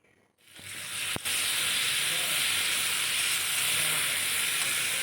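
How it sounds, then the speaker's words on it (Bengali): A paste of dried chili, onion and tomato hits a hot pan and fries with a loud, sustained hiss and sizzle that starts abruptly and holds steady, with a brief clatter just after it begins. "ওই পেস্টটাকে দিয়ে দিলাম এবার একটু ভালো করে কষিয়ে নেব"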